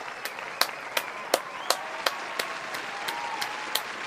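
A sound effect of slow, evenly spaced claps rings out about a dozen times in a steady rhythm over a faint, continuous background hum.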